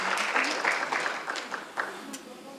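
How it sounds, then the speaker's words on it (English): An audience at a school board meeting gives a short round of applause, fairly quiet and fading out within a few seconds, with voices mixed in. "How about a round of applause for these two entrepreneurs?"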